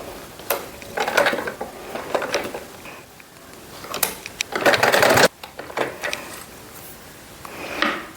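A home sewing machine stitching a petticoat made from a saree runs in several short bursts of whirring, with pauses and handling clatter between them, close and moderately loud.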